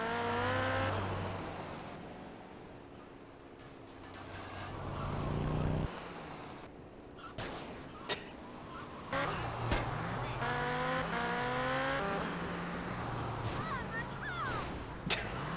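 Cars racing in GTA: Vice City Stories: engines rev and whine through shifting gears, with a swelling roar, rising pitch sweeps, and a couple of sharp knocks or impacts near the end.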